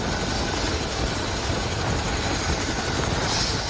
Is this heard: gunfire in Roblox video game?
no